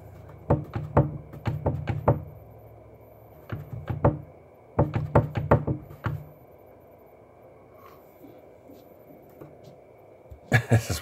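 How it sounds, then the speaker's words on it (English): Cat banging and scratching at a closed door at night, clusters of sharp rapid knocks and thumps in two bursts with rattling, then a pause and a final quick flurry of knocks. "You hear the door, it sounds like a ghost on the other side."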